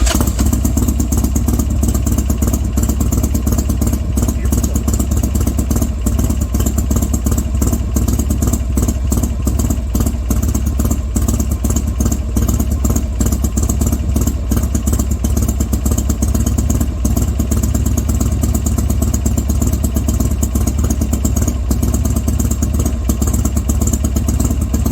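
A Buell XB9R motorcycle engine runs after a cold start, with a loud, steady, close-up rumble and a fast mechanical clatter throughout.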